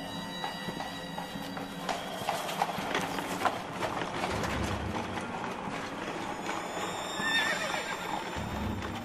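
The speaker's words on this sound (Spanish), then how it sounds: "Uno de los soldados dice que escuchó relinchar un caballo." A horse neighs and whinnies more than once over clip-clopping hooves and the rattle of a cart, with a steady background bustle throughout.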